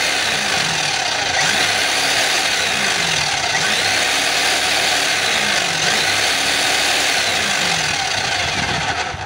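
A DeWalt D25899 jackhammer with a wiring fault runs loud and close, a harsh, continuous mechanical roar with no talking.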